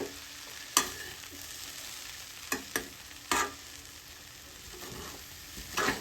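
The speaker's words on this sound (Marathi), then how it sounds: "आणि 1 मिनिटभर आपल्याला हे पोहे हलवायचे आणि बंद करायचे असतात." Poha with onion is stirred in a frying pan, a faint steady sizzle punctuated by a handful of sharp spatula scrapes and knocks against the pan at irregular intervals.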